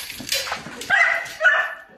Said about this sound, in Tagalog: Ang aso kinakagat.